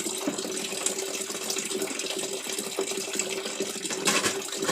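Tap water running in a sink while dishes are washed, a continuous close splashing flow with a faint clink of plates near the end, no talking.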